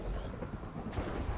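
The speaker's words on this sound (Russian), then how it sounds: "пока еще тут гром и молния." Thunder during a witchery ritual in a video game, a low, rolling rumble lasting about a second and a half, with a slightly sharper crack near the middle and no voices over it.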